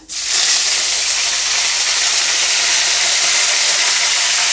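Mustard seeds, cumin and curry leaves hit hot oil for chitranna with avarekalu, bursting into a loud, steady, close sizzle that holds its full hiss without a break throughout.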